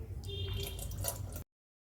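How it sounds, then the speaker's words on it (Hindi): Water dripping drop by drop from a kitchen item clogged by a grain of rice, heard close and faint as a steady trickle of small wet splashes for about a second and a half before silence. "थोड़ा थोड़ा करके एक एक बूंद करके गिर रहा है।"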